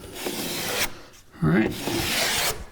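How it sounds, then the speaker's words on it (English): Drywall knife pressing paper tape into mud on the drywall side of an inside corner, short scraping and rubbing strokes at close range, with a brief spoken word between them. "Now we're going to embed the tape again on the drywall side"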